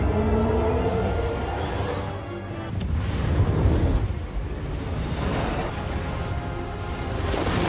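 A deep, rumbling explosion of a submarine hit by a heat-seeking missile in a film roars with heavy low-end noise, swelling and churning like water and debris, loud and continuous for several seconds.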